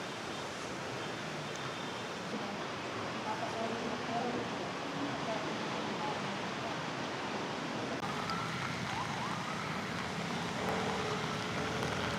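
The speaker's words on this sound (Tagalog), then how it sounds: "Lakas ng ulan eh." Heavy rain pours steadily on a car stopped in traffic, in a dense, unbroken roar that stays loud and constant throughout.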